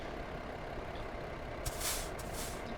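An American truck with a Caterpillar C-12 engine and an Eaton 8LL gearbox comes to a stop. A steady low engine rumble runs throughout, and a short, sharp air-brake hiss bursts out near the end.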